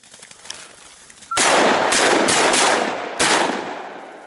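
During a woodcock hunt, two loud shotgun blasts ring out close by in open country, each with a long echoing decay, after faint quiet outdoor background.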